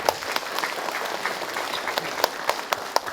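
Audience in a TVRI children's preaching competition studio breaks into warm applause, a dense wash of many hands with a few sharper individual claps standing out, sustained and steady throughout.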